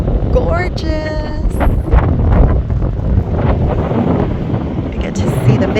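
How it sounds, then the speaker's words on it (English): Strong gusty wind buffeting the microphone with a low rumble, a person talking over it and a faint whistle-like tone early on. "It's a little windy"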